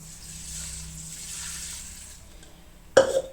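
Water poured over raw chicken to rinse it: a faint, steady trickling hiss that ends in a sudden close splash.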